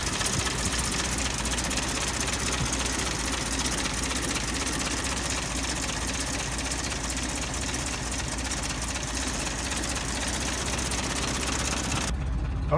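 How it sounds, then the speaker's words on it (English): A 1922 Essex Coach engine idles steadily at close range, a continuous even rumble with no talking, cutting off abruptly just before the end. "So you see the engine just purring along."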